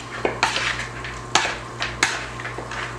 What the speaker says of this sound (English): And then just mix it all up together